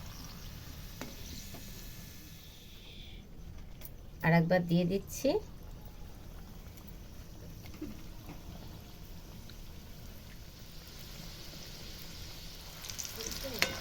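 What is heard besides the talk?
singhara (samosas) deep-frying in oil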